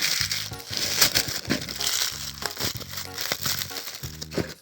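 Crinkling plastic and tape being peeled and torn from the packaging around a tablet's micro USB charger cable and 3-pin plug, close and busy with irregular rustling bursts, no talking.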